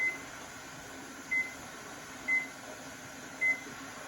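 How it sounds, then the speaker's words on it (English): Four short electronic beeps spaced about a second apart over a steady background hum, a kitchen timer being set while pressure canning peas. "I'm gonna set my timer for 10 minutes."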